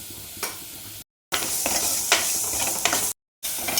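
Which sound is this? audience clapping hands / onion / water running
onion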